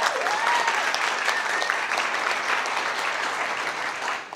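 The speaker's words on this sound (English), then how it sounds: "They deserve another round of applause." An audience at a business talk applauding steadily and loudly, a dense wash of clapping that holds for several seconds before tapering off at the end.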